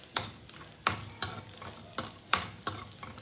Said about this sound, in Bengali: আর কটা কিশমিশ ভেজে নেব।